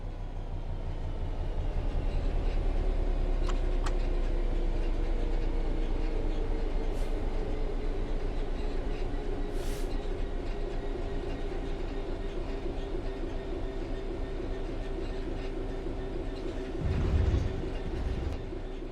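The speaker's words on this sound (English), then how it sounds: "The train will then coast on level ground, and the train will only slow down very gradually." Train coasting on level track in the game Train Sim World 3: a steady rumbling roll with a droning hum and faint rail clicks, slowly easing over about nineteen seconds, with a brief louder thump near the end.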